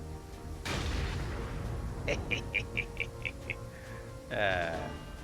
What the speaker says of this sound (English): Airstrike power!